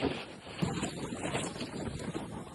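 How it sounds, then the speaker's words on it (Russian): Wind gusts across the open ice at the North Pole, at 90° north latitude. It makes a low, rumbling buffet against the microphone that swells and eases in uneven pulses, with no speech. "ветрит очень хорошо"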